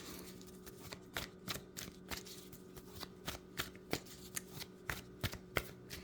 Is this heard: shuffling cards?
yes